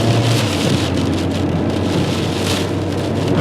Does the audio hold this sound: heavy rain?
yes